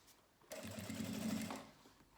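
An industrial sewing machine stitches a straight seam on a fabric pouch at a 4.5 stitch length with a size 18 needle. It gives one close, steady whirring burst of about a second on its own.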